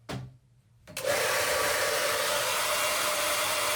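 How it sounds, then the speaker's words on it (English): A blow dryer switches on after a short handling noise and runs loudly and steadily as it dries hair, a close, constant whooshing roar. "So you use a blow dryer."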